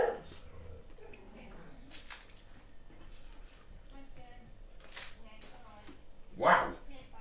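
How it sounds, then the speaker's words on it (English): A dog barks in a short loud burst near the end, sounding close by and agitated at the postman, with faint room noise and someone speaking quietly before it. "dog going mad at the postman"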